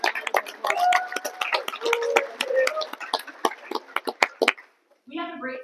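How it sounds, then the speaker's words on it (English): Scattered clapping from the audience at a startup networking event, a brief burst of sharp hand claps with a voice talking over it; the clapping fades into a short pause before the voice resumes. "let's give them a round of applause"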